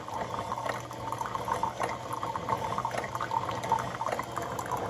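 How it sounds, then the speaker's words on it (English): A Keurig K250 single-serve coffee maker heating water for the next cup gives a steady bubbling, gurgling hiss, close and continuous with small fluctuations and no voices. "boiling some water for the next cup"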